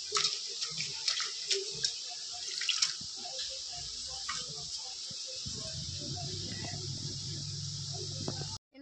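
Drumstick leaves are rinsed under a kitchen tap, with a steady hiss of running water and scattered splashes and drips. Partway through, the flow turns heavier and fuller until it stops abruptly at the end.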